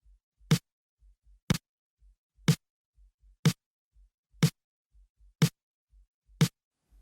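An unlayered snare drum, without its added sample and lightly EQ'd, cracks seven times at a steady one-per-second pace, each hit sharp and bright, with soft low thumps in between and no talking.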